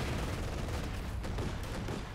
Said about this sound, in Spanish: hay una ametralladora y un camión blindado